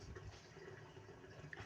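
Water running into a clogged kitchen sink drain, a soft steady trickle and gurgle at low level, continuous and close by with no voices.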